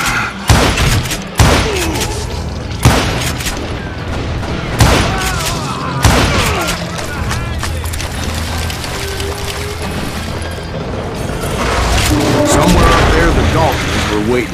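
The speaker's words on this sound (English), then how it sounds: "a fusillade of bullets come raining down from on high" Repeated heavy gunshots in the Western shooter Call of Juarez: Gunslinger, with several loud booming blasts spaced a second or two apart over a dense bed of game noise and music.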